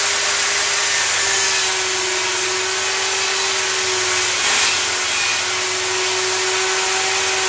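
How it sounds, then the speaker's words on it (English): A power tool cuts grooves in wooden pieces for a shop sneeze screen, producing a loud, steady, continuous whine with a constant pitched hum that holds throughout, near and uninterrupted, with no voices. "Now, I need to cut a groove in all of these pieces of wood here."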